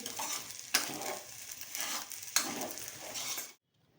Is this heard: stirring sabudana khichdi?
yes